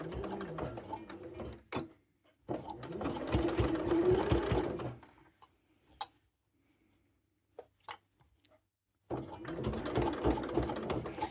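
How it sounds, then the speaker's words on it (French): A free-arm sewing machine stitches bias binding in close, loud bursts of rapid whirring, with a pause and a few faint clicks between runs before stitching resumes. "j'ai le bras libre de la machine qui me permet d'être plus à l'aise pour coudre"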